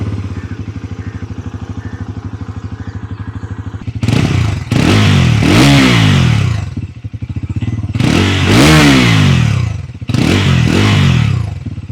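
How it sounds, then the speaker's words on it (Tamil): A Bajaj Pulsar NS400Z motorcycle idles with a steady low burble, then its exhaust is revved hard three times, each rise sharp and loud before dropping back to idle, close up. "ஸோ இந்த Bajaj Pulsar NS 400Gயோட exhaust note எப்படி இருக்குது அப்படின்னு நம்ம பார்க்கலாம்."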